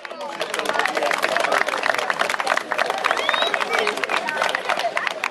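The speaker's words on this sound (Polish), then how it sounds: "Wielkie brawa, Krakowia, Kraków" Dense, sustained crowd applause and cheering at the closing ceremony of a youth football tournament, the Mini Ekstraklasa Cup 2012 in Sosnowiec, loud and continuous throughout with scattered shouts mixed in.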